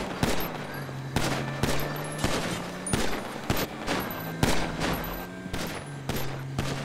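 Gunfire from the video game GTA V cracks out in loud, rapid volleys, with repeated bursts and sharp single shots overlapping for several seconds.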